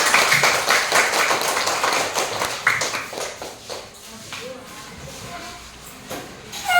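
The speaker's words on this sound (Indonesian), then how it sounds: "Tepuk tangan semuanya." A classroom group claps together after a presentation, a dense burst of hand claps that is loudest at first and thins out over several seconds, with some voices and shuffling underneath.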